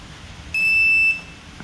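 A digital torque wrench on an LS engine build gives one clear, high electronic beep at its set torque. The tone lasts about half a second against a quiet background.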